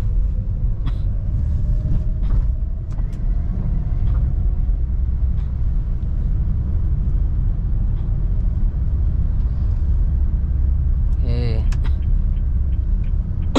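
A manual car's engine rumbles steadily at low speed while driving slowly through a right turn, a continuous low drone from inside the cabin with a brief tonal whine near the end.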